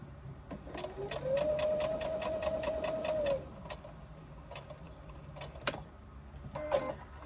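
A sewing machine stitches across the top of a crossbody bag with a steady, rapid run of needle strokes, then slows to a few scattered single stitches and clicks.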